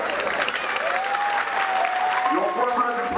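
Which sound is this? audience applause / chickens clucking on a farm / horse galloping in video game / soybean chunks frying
audience applause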